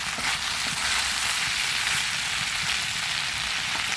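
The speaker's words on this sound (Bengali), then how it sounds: "সুন্দর করে একদম ভাজি করে নেব।" Fig (dumur) vegetable bhaji frying in a pan, a steady close sizzle and crackle of oil running unbroken throughout with no talk.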